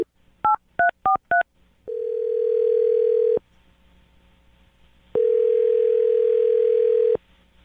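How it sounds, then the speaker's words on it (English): Four quick touch-tone beeps of a number being dialed on a telephone are followed by two long ringback tones separated by a pause, clear and loud with no talking. "I'm going to dial his phone number right now."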